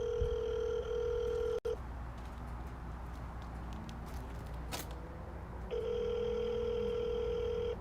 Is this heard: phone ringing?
yes